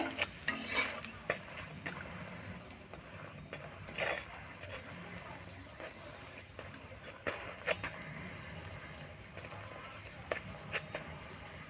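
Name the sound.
aloo paratha frying in butter in a pan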